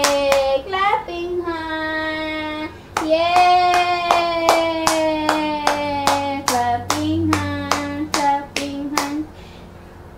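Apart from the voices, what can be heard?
hands clapping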